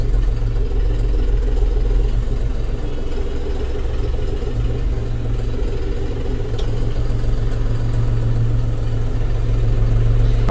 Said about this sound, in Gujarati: અત્યારે D ના પહેલા ગેરમાં ચાલે.